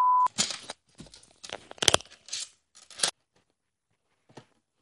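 Someone opens a Pokémon Pikachu Pokébox package, with several separate bursts of tearing, crinkling and cutting, close and fairly loud, and short silences between them.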